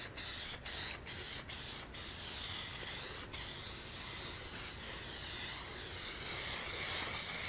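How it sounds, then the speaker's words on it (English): Aerosol spray applied over a clay skull sculpture being prepared for a mold: several short, sharp hissing bursts in quick succession, then one long continuous hiss, close and fairly loud with no talking. "as a precaution, I'm going to put a spray over it."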